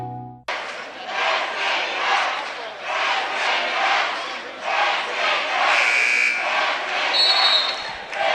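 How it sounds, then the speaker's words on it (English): A buzzer sounds briefly at the 2012 OSAA 1A boys basketball championship game in Baker City, Oregon, then a loud, continuous arena crowd roar follows, with faint higher tones near the end. "And we are back with the buzzer for the fourth quarter of the 1A Boys Championship game"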